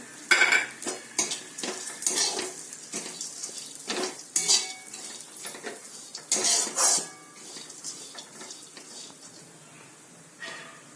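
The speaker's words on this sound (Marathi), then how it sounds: "आता याच्यातच आपल्याला काजू टाकायचे आहे, ते पण थोडेसे आपल्याला भाजून घ्यायचे आहे।" Cashews and walnuts being dry-roasted in a pan for date laddoos, with a spoon repeatedly scraping and clattering against the metal as they are stirred, accompanied by a light sizzle. The sound is close and alone, with no talking.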